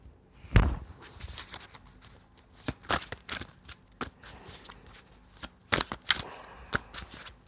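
Playing cards being gathered up and covered, a run of short papery riffles and slaps with irregular rhythm, close and clear, with no talking.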